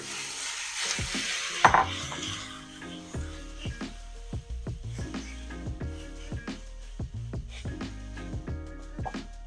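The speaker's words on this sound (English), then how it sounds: "Our pan is nice and hot, and I will go ahead and add my steak." Seasoned steak pieces for a Philly cheesesteak hit a hot pan and sizzle, with scraping, stirring and clinks of utensils against the pan. The frying stays close and steady, and no one speaks.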